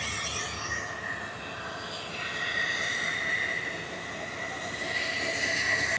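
A train, the Mahanagar Provati from Dhaka to Chattogram, sits at a station before its engine is attached, with a steady rumble, hissing air and a thin high squeal rising and fading, moderately loud and close.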